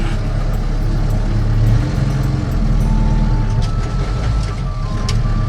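A 2018 Mahindra Roxor's turbo diesel engine idles steadily with a low, continuous rumble as it backs up, with faint high beeps and a constant close hum, with no talking.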